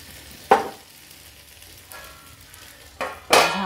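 Sabudana and raw potato thalipeeth frying in oil on a pan for a fasting dish, with short, sharp sizzling bursts, one near the start and two close together near the end, over a quiet background.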